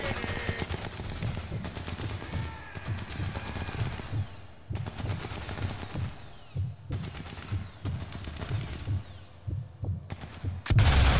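Repeated gunshots from a sniper rifle in a co-op shooter campaign set at a monastery ring out in a steady irregular series across the clip, with a louder blast right at the end.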